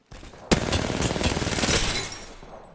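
Gunfire in Apex Legends: a sharp shot then a rapid, dense burst of automatic fire rattling for about two seconds, loud and close, fading out at the end.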